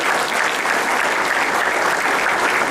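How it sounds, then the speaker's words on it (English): An audience at a youth summit breaks into loud, sustained applause, a dense wash of clapping hands that stays constant throughout. "give yourself a round of applause right now"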